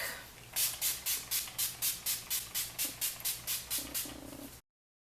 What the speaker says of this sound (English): spray my face with this Urban Decay De-Slick